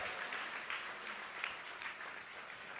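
Audience applause at the Voices of Courage 2025 fundraising event, a steady, moderately loud wash of clapping from a room of supporters that continues evenly for a few seconds.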